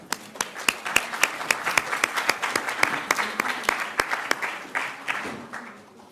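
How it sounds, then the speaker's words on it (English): A round of applause from a seated audience at a talk session, with sharp individual claps standing out over a steady wash of clapping for about six seconds, fading slightly toward the end. "we'll give them a round of applause"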